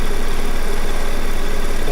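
A sewing machine runs steadily, stitching down a fabric strip in a quilting studio, giving a continuous dense mechanical whir with no pauses, loud and close, with no talking.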